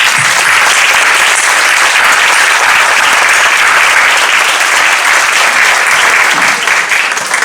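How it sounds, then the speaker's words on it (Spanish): Loud, sustained farewell applause from an audience at a public lecture, dense clapping filling the room steadily from start to finish with no talk over it. "yo de verdad que quisiera darle un aplauso de despedida"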